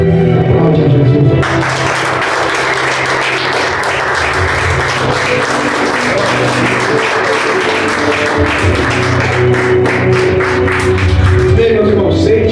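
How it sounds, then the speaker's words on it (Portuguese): Loud, sustained applause from a church congregation at a Sunday family service fills the room, with dense clapping running steadily for over ten seconds, under a bed of organ or keyboard tones and voices. "Aplaude a Jesus."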